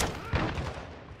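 Gunfire in Modern Warfare II, a dense run of shots and booms filling the whole moment at moderate loudness, with a voice talking faintly underneath.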